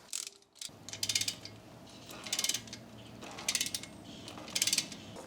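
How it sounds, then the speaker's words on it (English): A brake caliper piston reset tool is cranked on the front brakes of a 2019 Jeep Compass 2.4L, making close, quiet ratcheting clicks in repeated bursts with a faint creak and hum between them. "I'm using a brake caliper piston reset tool."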